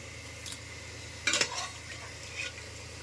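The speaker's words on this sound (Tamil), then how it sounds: "நல்லா கிண்டிக்கிறோம்" Mutton being stirred in a pot while cooking Dindigul thalappakatti biryani, with a faint background hiss, a few scraping stirs and one louder clatter of the spoon against the pot partway through, no talk.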